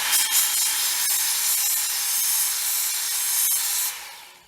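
A Ken Onion knife sharpener, a belt grinder, works a steel blade on its coarse belt, a loud close hissing grind that holds steady for about four seconds before easing off, with no talk.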